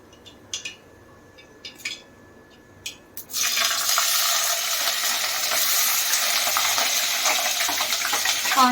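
After a few light clinks of a utensil against a pan, onions and green chillies drop into hot oil and set off a loud, continuous sizzle that carries on steadily, heard up close.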